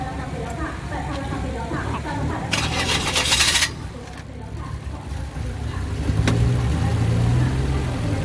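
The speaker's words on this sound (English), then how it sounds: "See if the little Fiesta starts." A little Ford Fiesta at an auction lot cranks and catches with a short loud burst, then settles into a low, steady idle under faint background noise.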